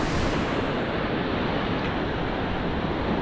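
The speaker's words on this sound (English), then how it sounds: "here's one of those surgy waves I'm talking about" A surging ocean wave breaks onto a rocky shore at a rock fishing spot, a loud, close, continuous roaring wash of water with wind noise and no voices.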